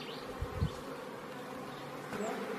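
Honeybees in a packed hive in May hum steadily and fairly close, a dense, continuous buzz with a couple of brief louder knocks near the start.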